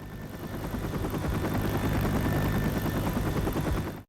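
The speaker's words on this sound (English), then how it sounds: "the helicopter stops moving and can still be heard from out of bounds" A helicopter in the video game Left 4 Dead thumps its rotor in a loud, continuous drone with heavy low rumble, sustained throughout before cutting off abruptly.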